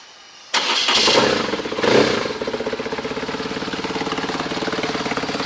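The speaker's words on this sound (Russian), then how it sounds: "Хорошо, моторчик работает. Довольно тихо. Выхлоп шумноватый. А сам двигатель очень тихий." A BMW R1100RT motorcycle's boxer engine cranks and catches after a short silence, surges briefly, then settles into a steady, evenly pulsing idle that runs on alone, close and fairly loud.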